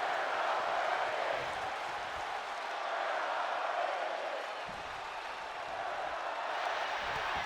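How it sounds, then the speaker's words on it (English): Broad, steady crowd roar and shouting from a wrestling arena in the WWE 2K25 video game, CM Punk versus John Cena, a continuous washy din that swells and dips slightly throughout without clear words. "when it's crowd shouts like that, half the time I don't even know what they're shouting"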